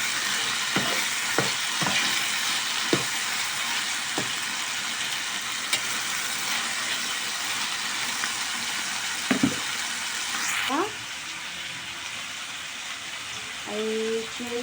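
Broad beans fry in a hot pan with a steady, close sizzle, broken by scraping stirs and a few sharp clinks of a utensil against the pan, with faint background sounds near the end.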